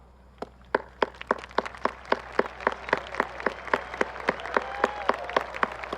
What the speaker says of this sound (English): If we can give each of them a round of applause